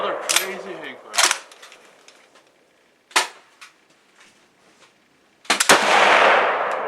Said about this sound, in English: you hear that hang fire? Yeah. Another crazy hang fire.